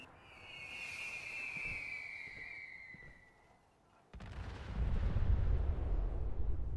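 Shell-firing weapon in the game Fallout 4: a whistling, descending high tone fades out, then a single heavy booming blast hits and leaves a loud, rumbling low roar trailing afterward.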